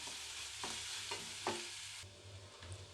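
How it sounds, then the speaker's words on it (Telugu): A potato mixture for an aloo snack fries and sizzles in a pan, with a steady close hiss broken by a few sharp stirring scrapes and taps. "చూడండి కొద్దిగా ఈ విధంగా ఫ్రై అయితే సరిపోతుంది"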